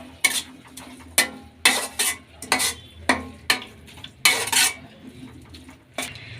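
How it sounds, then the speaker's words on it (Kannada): Tomato, garlic and chili mixture stirred in a pan, a spoon scraping and clanking against the metal in a steady series of close, sharp strokes over a faint sizzle. "ಈಗ ಇವೆಲ್ಲ ಮಿಕ್ಸ್ ಮಾಡೋಣ."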